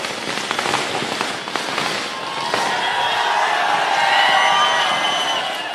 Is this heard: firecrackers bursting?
yes